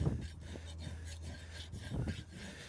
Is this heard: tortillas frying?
no